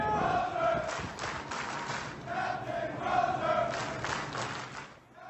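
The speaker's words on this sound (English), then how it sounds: "This is them cheering him on as he was leaving the ship." A crowd of sailors aboard a Navy aircraft carrier cheers and chants in rhythm for their departing captain, loud rising shouts heard at a distance with faint clapping underneath.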